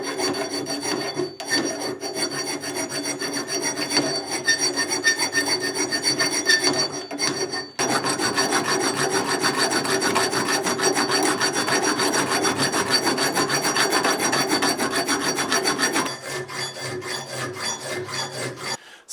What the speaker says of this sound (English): Now I'll start with the filing work.